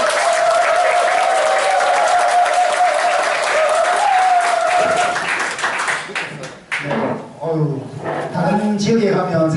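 Lecture audience at a gallery talk applauding loudly and steadily for about five seconds with a sustained tone under it, then breaking into cheering voices and scattered claps that fade and swell again.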